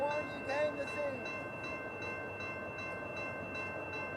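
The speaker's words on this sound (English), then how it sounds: "And here comes the auto train, finally." Amtrak P053 Auto Train approaching through Selma, North Carolina, a steady rumble of rail cars with a horn at the start, fairly distant and faint, with people talking over it.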